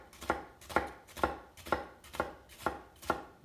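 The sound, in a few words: knife slicing onion into thin strips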